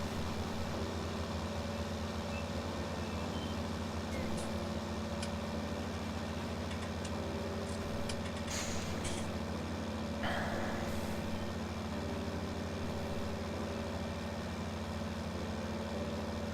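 A tractor's gearbox in Farming Simulator 19 drones with a steady low mechanical hum and engine rumble, continuous and fairly quiet, with a few faint clicks along the way and no voices.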